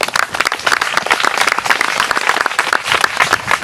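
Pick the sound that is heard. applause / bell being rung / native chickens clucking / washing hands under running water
applause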